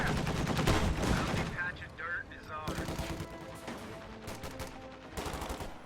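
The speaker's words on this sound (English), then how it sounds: "AA half-track firing on the church wipes the machine gun on its retreat." In a WWII strategy video game, an AA half-track fires its machine guns in rapid, dense bursts of loud, rattling gunfire with brief pauses between volleys, while someone talks over the shooting.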